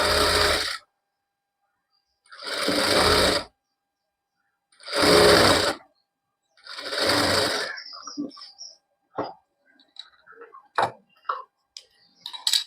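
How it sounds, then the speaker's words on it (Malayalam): A sewing machine stitches along the edge of palazzo pant fabric in four loud bursts of whirring with pauses between, followed by lighter clicks and handling sounds. "ഞാനിതിന്റെ അറ്റത്ത് കൂടെയാണ് സ്റ്റിച്ച് ചെയ്യുന്നത്"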